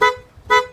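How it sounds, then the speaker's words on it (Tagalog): Stock car horn tested during a swap from a Bosch horn to a PIAA horn, giving two short separate honks about half a second apart, close and loud. "Busina."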